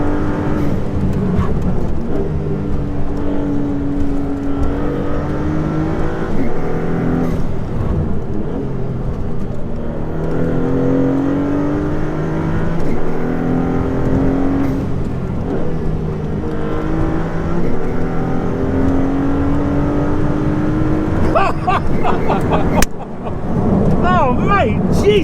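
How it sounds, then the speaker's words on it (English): A Maserati MC20 with a 3-litre twin-turbo V6 accelerates hard, its engine note rising steadily through the gears and running loud and continuous throughout, with people talking over it from inside the car. "How much power comes from that engine? From a 3-litre twin turbo."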